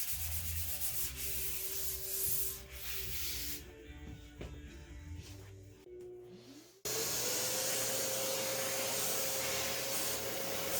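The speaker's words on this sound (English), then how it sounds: "I lightly sand the cabinets with a 220 grit sanding pad" Abrasive rasping of a 220 grit sanding pad worked over the finished cabinets of Pioneer HPM-100 speakers, steady and close with uneven strokes, then a high-suction vacuum starts up and whines loudly to the end.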